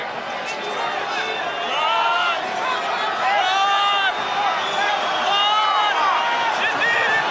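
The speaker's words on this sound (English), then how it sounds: "the noise from this crowd" Stadium crowd at the 2011 Rugby World Cup match between Ireland and Russia, a broad roar of many voices with rising chants and whistles in the background. A commentator talks over it throughout.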